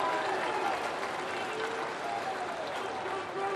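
The Cardinals' home crowd applauds at the ballpark to mark a major league debut during a Pirates vs Cardinals game, a steady wash of distant clapping and cheering with a commentator talking over it.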